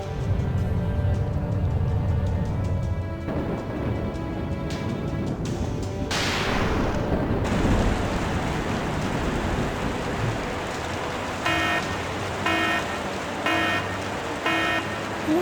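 A video game storm in Tokyo Afterschool Summoners carries a deep earthquake rumble under steady hissing rain, with a sudden heavier surge partway through and faint repeated tones near the end.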